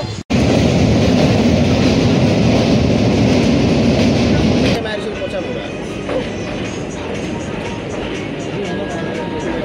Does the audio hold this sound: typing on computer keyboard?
no